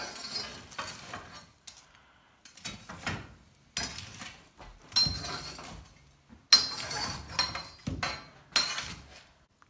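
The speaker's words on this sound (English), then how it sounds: "This is an ash mover, and I'm going to push those ashes back to the back rear, right and left of the oven." A metal ash mover scrapes and pushes ashes across the floor of a wood-fired pizza oven toward the back corners, in repeated close, gritty strokes with short pauses between them.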